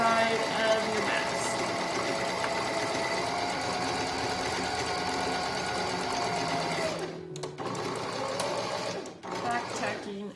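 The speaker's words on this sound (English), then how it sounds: "I'm just going to sew down the curved side of your mask." A sewing machine stitches down the curved side of a fabric face mask with a quarter-inch seam, running loud and continuous, then pausing briefly and restarting near the end.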